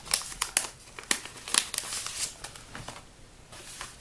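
Birthday stickers peeled from a sticker sheet for a personal planner, a run of close, sharp crinkling and peeling rustles in quick bursts, with no talking.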